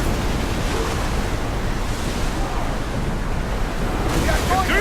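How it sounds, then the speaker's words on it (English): Steady roar of wind and rushing ocean waves around a sailing ship in Assassin's Creed Odyssey, a loud continuous wash filling the whole stretch with no pause. "Feel that wind!"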